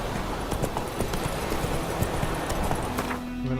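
Roach, the horse in The Witcher 3, moves at a steady clip-clop of hooves over a dense, noisy game background, with no speech.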